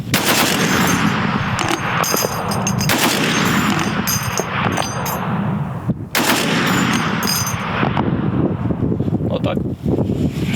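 The Shablya remote-controlled machine gun turret fires in loud, rapid bursts, sharp cracks repeating in several long strings with short pauses between them, amid wind noise outdoors.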